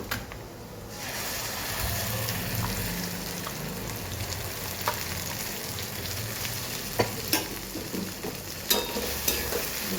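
Tomato and green chili puree frying in a pan, a steady close sizzle with a few sharp pops and spatters over about ten seconds and no talk.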